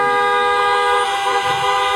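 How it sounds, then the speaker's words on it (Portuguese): Many car horns honk together from a gathered drive-in audience, a dense, steady blare of overlapping toots held loud for the whole span. "Quem assistiu, dá uma buzinadinha."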